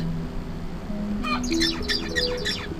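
A songbird delivers a sequence of bright, rapid chirped syllables after a short quiet lead-in, close and clear over a low background hum.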